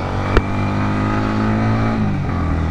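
A Yamaha MT15 motorcycle sets off with a steady engine drone and a rising, shifting pitch, close and fairly loud, with a brief click near the start.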